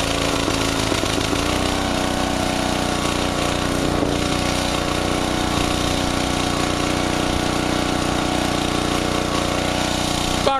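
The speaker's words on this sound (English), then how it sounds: "I cannot get that engine to run any slower than that." A Generac 750 watt portable generator engine runs continuously under a load of about 350 watts, a loud, steady buzzing drone held close to the microphone, with a slight change in pitch early on and no talking.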